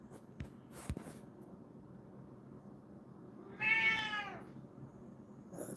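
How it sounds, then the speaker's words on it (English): House cat meowing for wet food: one drawn-out, insistent meow near the end, close and clear, preceded by a few soft taps and handling noises. "One annoying meow for wet food."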